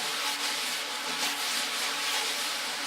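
A steady, airy brushed swish on a drum, a continuous soft scraping hiss with no beats, played alone.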